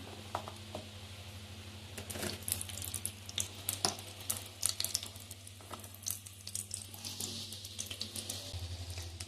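Shallots frying in sesame oil in a hot clay pot, an ongoing soft sizzle broken by scattered sharp crackles and pops, with a low steady hum underneath and no voices.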